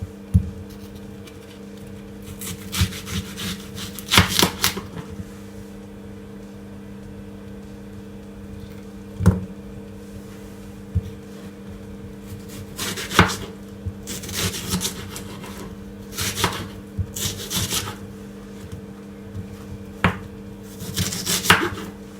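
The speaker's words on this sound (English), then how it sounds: "Then I'm just gonna cut my onion." A knife chopping an onion on a cutting board in a home kitchen, a few scattered clusters of quick, sharp chops separated by quieter pauses, close and fairly soft with a faint steady hum behind.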